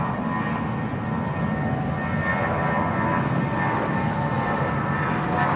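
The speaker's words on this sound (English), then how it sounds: "LL 777 there coming in on runway 19 left, which is the dedicated arrival runway today" Boeing 777 airliner arriving on runway 19 left at Bangkok Suvarnabhumi Airport, a steady distant jet roar and whine that swells slightly toward the end.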